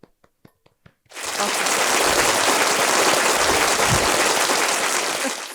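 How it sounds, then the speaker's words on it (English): After a few sharp isolated taps, a sudden burst of loud, dense applause from an audience erupts and holds steady, close and overwhelming, until it tapers at the end. "Give us a round of applause, everybody."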